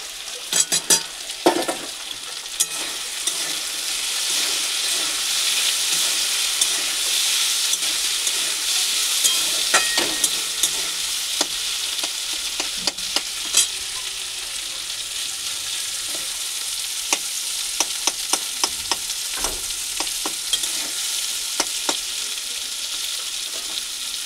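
Chopped onion fries in a pan for chowmein, giving a loud, steady sizzle with scattered sharp crackles and occasional stirring clatter, with no talking.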